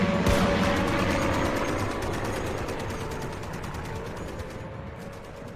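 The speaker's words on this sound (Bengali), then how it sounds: "অ্যান্টি এয়ারক্রাফট গান, বিমান বিধ্বংসী কামান।" Anti-aircraft guns fire in rapid sustained bursts, a dense rattling barrage that runs throughout and fades slightly toward the end, with no voices over it.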